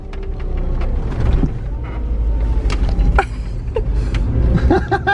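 A VW Vanagon Syncro van converted for off-road use rumbles along rough ground, its engine droning low and close while the body knocks and rattles intermittently.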